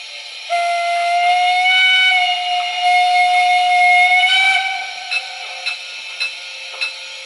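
Lenz O gauge DRG Br98 model steam locomotive with DCC sound, giving a long sustained steam whistle, then a few short hissing steam chuffs, loud and close with no voices.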